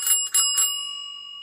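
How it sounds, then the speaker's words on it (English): Brass or copper bell on a nineties Gazelle Maxinette bicycle rings in three quick close strikes, then one bright tone rings on and fades slowly. "I need to flip the bell out of the way"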